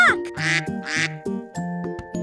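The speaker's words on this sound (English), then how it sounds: "It's a duck!" A duck quacks several times in quick succession, loud and close, with nasal honking calls spaced in an uneven rhythm and no talking over them.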